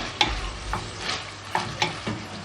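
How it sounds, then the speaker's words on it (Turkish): Two green peppers and a red kapya pepper sautéing with tomato paste in a pan, a steady sizzle punctuated by four or five crisp spatula scrapes in irregular rhythm, close and without voices. "2 adet yeşil biber, 1 adet de kapya biberimizi ekliyorum. Güzelce kavuralım."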